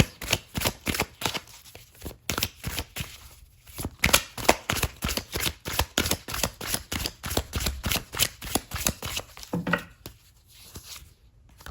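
Oracle cards being shuffled by hand, a rapid series of crisp riffling and slapping bursts repeating steadily with brief pauses, close and fairly clear.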